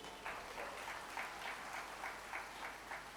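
Steady audience applause at a Hindu community gathering, a dense, even wash of many hands clapping at a fairly faint, distant level, with soft swells throughout and no voices over it.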